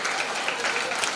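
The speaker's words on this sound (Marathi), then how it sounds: "टाळ्या वाजून या ताईंचं अभिनंदन करायचं आहे" Applause from a crowd at a Paithani game event, greeting the woman who won; a brief, dense burst of clapping that stays at a steady level throughout.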